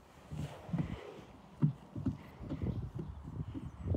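A horse's hooves clip-clop in a slow, uneven walk, several distinct thuds close by, with a quiet voice in the background.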